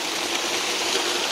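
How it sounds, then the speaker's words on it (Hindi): A 3-inch tubewell gushes water into a duck pond in a steady, loud, continuous rush of broadband splashing that stays near and unchanging. "3 इंची नलकूप चल रहा है ये"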